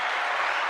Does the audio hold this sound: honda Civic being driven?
no